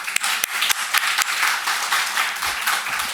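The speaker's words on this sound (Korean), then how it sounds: "박수로 축하해 주시면" A church congregation claps in celebration of a child's first birthday during a Sunday morning service, a brisk burst of many hands with a few sharp distinct claps at the start, close and fairly loud.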